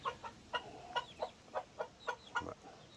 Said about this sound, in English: There's old Blue Orpington rooster.